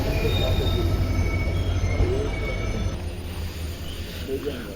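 Panchaganga Express train rolling into Kundapura station, a steady rumble from inside the coach with high wheel squeal lines, the noise easing and softening as the train slows.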